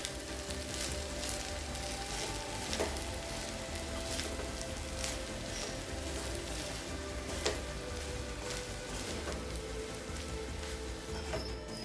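Egg rice with omelette, coriander and ghee frying in a pan, a steady close sizzle with faint crackles and occasional soft stirring clinks, no voices.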